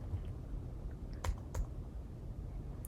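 A computer keyboard is tapped in a few light, scattered clicks while a title is typed for a Magic 8-Ball app, faint against a quiet room hum.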